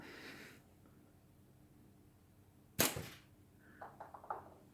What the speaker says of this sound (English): I'm also going to shoot that netting because I want you to hear the sound of it when it hits the netting.